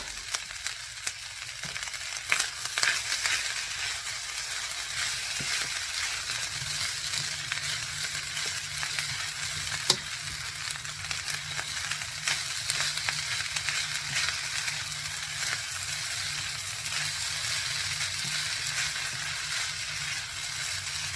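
Fried rice with peas and carrots sizzles steadily in hot oil, a dense continuous frying hiss with occasional scraping stirs, close and fairly loud with no talking.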